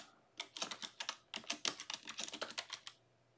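Keys on a computer keyboard are tapped in two quick bursts of clicks, close and quiet, against a near-silent background.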